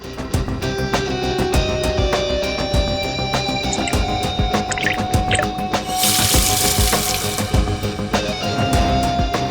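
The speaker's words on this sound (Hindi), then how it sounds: "पानी यहाँ स्पीकर से आया और वो गीला हो गया।" Water splashes and pours out of a speaker inside a lift, a steady wet rush under a dense, noisy background with a brighter hiss swelling near the end.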